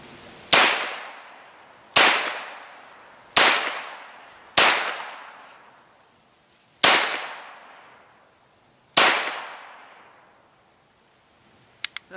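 A CZ Scorpion EVO-K short-barreled rifle is being sighted in with six loud, cracking shots at irregular intervals, each trailing off in a long outdoor echo, followed by a couple of faint clicks at the end.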